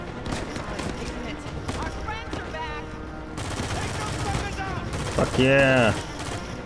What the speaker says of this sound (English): I got this OP-ass gun that just rips them